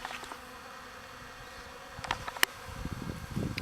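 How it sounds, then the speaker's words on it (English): Honeybees from a cutout colony, their queen among them, hum in a soft steady drone close by, with occasional louder buzzes passing near and a few light knocks. "Now they got my queen with them. The same bees."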